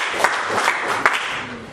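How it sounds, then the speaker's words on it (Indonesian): Brief burst of clapping from a classroom audience applauding a presenting student group, a steady patter of many hands with a few sharper claps standing out. "Kita berikan aplaus dulu buat kelompok."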